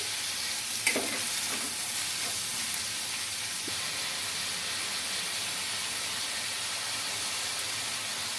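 Dried red chillies and tamarind stirred in a pan, a steady frying hiss running throughout with a few soft scraping knocks early on, fairly quiet and even, with no voice.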